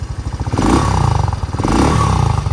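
A motorcycle engine revs loudly and close by in the Bicol region of the Philippines, holding a steady, throbbing roar with rhythmic pulses that rise and fall over a few seconds.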